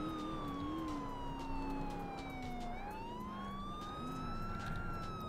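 Police siren in the video game GTA IV, wailing steadily and rising and falling in pitch throughout, loud and continuous against a constant background of game noise.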